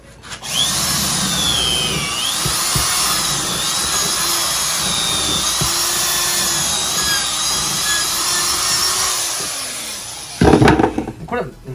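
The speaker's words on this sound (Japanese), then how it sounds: "ドリル。" A power drill bores a hole into a packed mushroom spawn bottle for beetle larvae, a steady whining drone lasting about ten seconds close up, ending with brief clattering handling noises.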